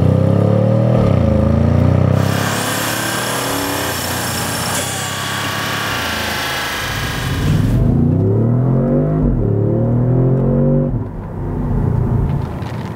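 Revving V8 exhaust of a 2018 Audi S6, loud and close: a deep rumble, then a sustained high-pitched rev, a cutoff, and several throttle blips rising and falling in pitch.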